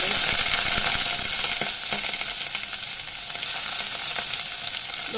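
Fennel seeds and chopped small shallots fry in hot oil for a Kerala-style soya chunks curry, a loud, continuous sizzle with faint stirring scrapes throughout.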